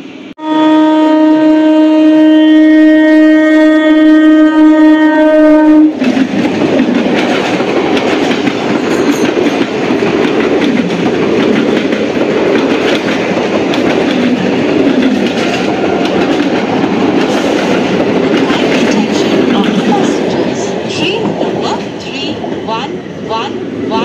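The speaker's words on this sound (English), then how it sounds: "পুরো ফুল এসি গাড়ি।" A fully air-conditioned passenger train on the main line at Ichhapur opens with a loud sustained horn, then rolls past with heavy continuous rumble and rhythmic wheel clatter, close and loud throughout.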